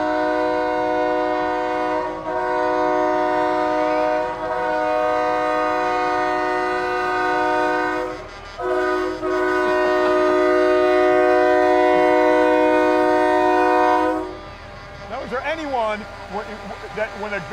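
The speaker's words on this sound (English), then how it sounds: "you don't expect to hear a train whistle" A truck's loud train-whistle air horn blares in long blasts at a Christmas parade in Fort Walton Beach, briefly cutting out twice, then gives way to fainter background noise and a voice at the end.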